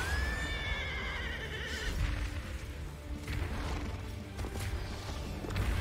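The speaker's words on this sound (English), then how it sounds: "Again, it's still bothering me. The horse only has four legs." Odin's horse in the video game Final Fantasy Crisis Core Reunion lets out a high, wavering neigh, followed by heavy crashing game effects and a steady background rumble.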